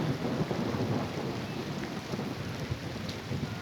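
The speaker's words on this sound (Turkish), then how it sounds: "Yağmur da bir yandan başladı." Steady rain falls continuously at a lakeside campsite, a dense hiss of drops with a low rumble beneath, constant and fairly loud throughout with no voices.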